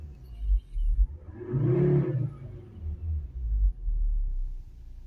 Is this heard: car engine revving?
yes